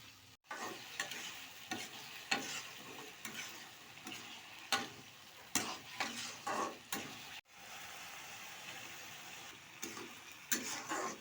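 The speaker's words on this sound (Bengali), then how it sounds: "এবার মেখে রাখা তরকারিগুলো কড়াইয়ের উপর দিয়ে দেবো" Spiced vegetables with pangas fish sauté in a wok. A quiet sizzle runs under repeated scraping and stirring knocks of the spatula, which come in an uneven rhythm, close by.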